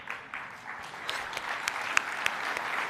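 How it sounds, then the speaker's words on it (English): An audience at a basketball awards presentation applauds, with a moderate, steady patter of many hands clapping and a few sharper claps standing out. "We will give an early round of applause before the coaches"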